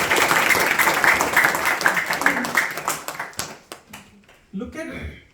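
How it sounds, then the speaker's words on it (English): Audience applause for Nandul Bhai at a Bhakti vriksha Bhagavad Gita gathering, a few seconds of dense clapping that thins into scattered claps as a voice begins speaking over the tail. "Please give a round of applause to Nandul Bhai."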